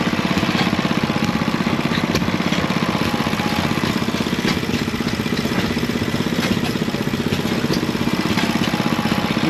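Antique engines left running at an outdoor Old Threshers show make a steady, continuous chugging and clattering drone at close range, with no pause and no voices.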